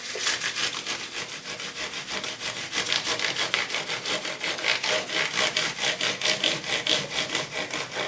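A file or abrasive stroked back and forth along the frets of a 2005 Gibson Les Paul Limited Edition fretboard, giving a steady, close run of rhythmic rasping strokes with no talk.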